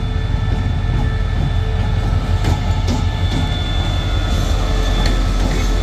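A freight train rolls past at Bang Sue Junction in Thailand, its heavy, continuous rumble and clatter of wagons sustained at close range throughout, with faint wheel clicks but no voices.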